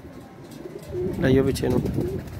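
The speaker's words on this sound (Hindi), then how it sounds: "ये है जी रेड आइज कबूतर माशाल्लाह" A red-eyed fancy pigeon gives a brief soft cooing burst up close, heard beneath someone talking.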